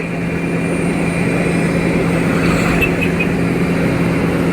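A lorry spraying chemical on the NH66 roadway ahead of tarring gives off a loud, steady engine drone with a constant low hum, heavy and unbroken throughout, and no voices over it.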